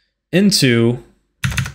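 Computer keyboard keys clatter in a short burst as a command is entered at a Windows prompt, with a spoken word just before the quick run of clicks.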